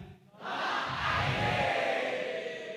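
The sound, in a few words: webinar participants shouting ".id" together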